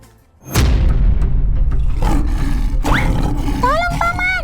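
A big cat, a lion climbing onto a truck with food in a cage near visitors, lets out a sudden, loud, sustained roar, followed by high, wavering voices toward the end.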